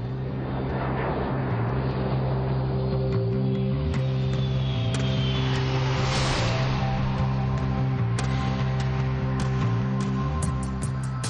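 An Emirates Airbus A380 airliner arrives at the Bahrain International Airshow, a continuous loud jet engine roar with a steady low droning hum and a whining tone that shifts in pitch as it passes, with no talk.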